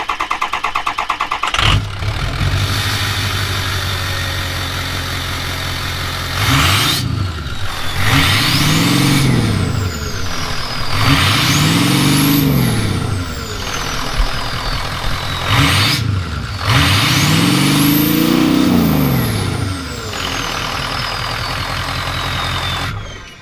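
A 6.0 Powerstroke diesel truck running straight off the downpipe starts up, then revs loudly in three long swelling pulls that rise and fall between a deep, raw idle.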